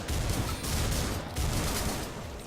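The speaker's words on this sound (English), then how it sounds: "if you shoot the lava and little droplets like flick off" Rapid gunfire from the video game Butcher, shooting into lava: a loud, dense, continuous fusillade of overlapping shots with no pauses or talk.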